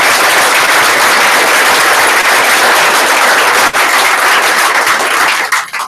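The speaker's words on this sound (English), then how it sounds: "So I want to give Debbie a big round of applause because she's doing it" Loud, sustained applause from an audience at a company sales meeting, a dense wash of clapping that holds steady for several seconds before starting to thin out near the end.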